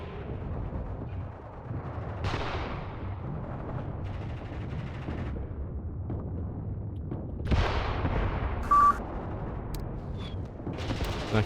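Anti-tank and machine gun fire sounds in the WW2 video game Mius Front, with several heavy booming shots and short rattling bursts at irregular intervals, some near and some more distant.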